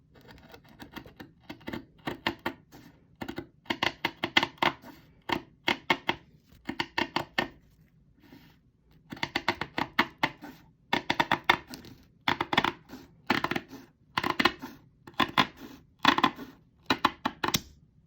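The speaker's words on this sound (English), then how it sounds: "I really enjoy the sound of cutting Aida" Repeated crisp snipping of scissors through stiff Aida cloth, quick bursts of cuts separated by short pauses, close and clear with no talking.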